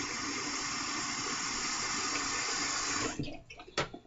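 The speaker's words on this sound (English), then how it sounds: "And I'm going to put me some more hot water back in my scuttle." Hot water pours steadily into a shaving scuttle for about three seconds, a close, even gushing rush that then stops abruptly, followed by a few faint drips and a small clink.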